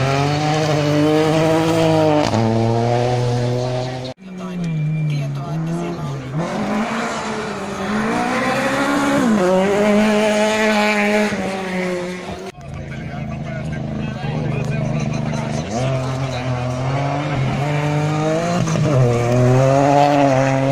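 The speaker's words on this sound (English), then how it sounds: "hopefully this clip will be followed by some cool rally car footage from the stage" Rally cars on a special stage at Rally Finland 2017 roar past continuously, loud engines rising and falling in pitch through gear changes, with a brief dip before the next car passes and crowd noise beneath.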